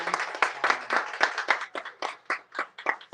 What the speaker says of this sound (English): let's just give him some round of applause for encouragement.